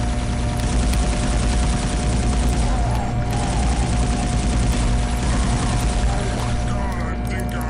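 Sustained automatic gunfire from the video game SiN, a loud continuous rattle of rapid shots layered with dense game noise and a steady mechanical hum throughout.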